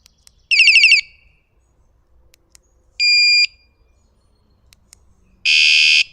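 Three separate electronic alarm tones sound in turn, a rapid warbling chirp, a steady beep, then a loud buzzing tone, each short and separated by quiet.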